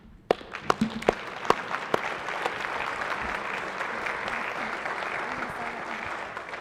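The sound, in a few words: audience applause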